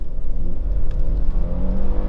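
A 2020 Hyundai Palisade Limited AWD pulling away from a standstill on grass with traction control off, a steady low engine rumble and whir rising slightly, close and loud.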